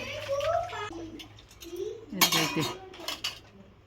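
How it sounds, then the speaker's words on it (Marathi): Metal dishes and utensils clink and scrape as they are scrubbed by hand outdoors at a tap under a banana tree, while people talk nearby. "आवडतं तिला मस्त झाडाखाली भांडी घासायला"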